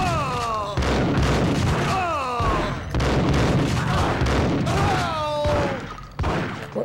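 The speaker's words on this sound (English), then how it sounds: "Who's shooting me?" Max Payne video game gunfire rattles in heavy repeated volleys with booming impacts, broken by short gaps between bursts.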